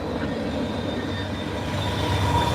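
A freight train carrying auto racks rolls past in the snow, a close, loud and continuous rumble of wheels on rails with a faint metallic squeal running through it.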